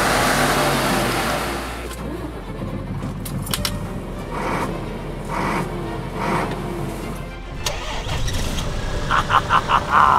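A Scania truck engine idles after a cold start in the snow, a deep steady rumble with light rattles and jangling, close by. Faint talk is heard in the background.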